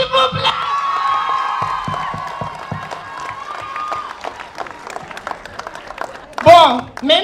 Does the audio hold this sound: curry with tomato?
no